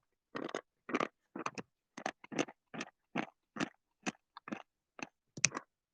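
Crunchy chocolate train sweets being chewed close up, about a dozen distinct crisp bites and chews in a steady rhythm with short silent gaps, no talking.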